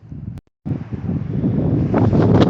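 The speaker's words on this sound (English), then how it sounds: "I'm trying to block the wind." Strong wind buffets the microphone outdoors in an old ghost town, a loud rushing roar that cuts out briefly and then returns, building steadily.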